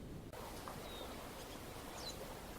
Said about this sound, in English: there is a sunrise to the sound of waves over loose pebbles with morning birds